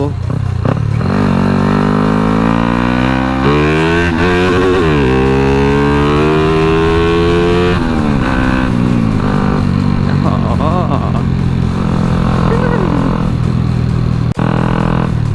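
A motorcycle engine freshly fitted with a new piston and an aftermarket cam is ridden and shifted through gears, its loud, close drone climbing in pitch and dropping repeatedly as each gear engages.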